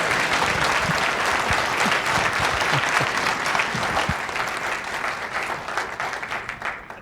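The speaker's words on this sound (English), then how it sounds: "everyone can clap" Conference audience at the Angelman Syndrome global summit breaks into loud, dense applause that holds steady and then gradually thins out toward the end.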